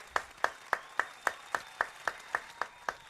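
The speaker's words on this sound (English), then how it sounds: "Round of applause for that." Studio audience clapping in a slow, steady rhythm, about a dozen evenly spaced claps that sound like a small group or single pair of hands, moderately close and fairly quiet, with no talk over it.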